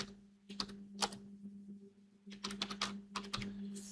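Fingers type on a computer keyboard in short bursts of clicky keystrokes separated by a brief pause, with a steady low electrical hum underneath.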